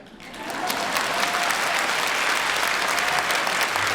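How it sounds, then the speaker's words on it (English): A crowd applauds steadily, a dense wash of clapping that swells in within half a second and holds loud and even to the end. "Please give one more round of warm applause to Mr. Pravin Parekh."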